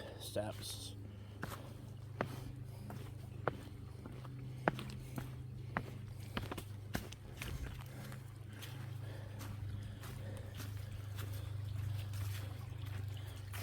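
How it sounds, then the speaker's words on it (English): Faint trickling of a creek at a crossing on Minnesota's Superior Hiking Trail runs beneath a low steady hum, with scattered soft footsteps and small crunches at an irregular pace. "And a wonderful creek crossing."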